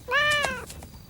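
A cat gives one short rising-falling meow, clear and close, lasting under a second.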